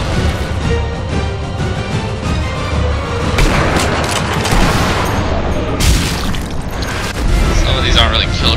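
Gunfire and heavy booming explosions fill a battle in Sniper Elite V2, with repeated shots and blasts landing close and loud over a continuous low rumble, while someone talks over the action.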